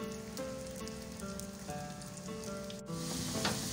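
Onions sizzle steadily in hot oil as they fry to golden brown for a beef yakhni pulao, a continuous close crackling hiss with no voices.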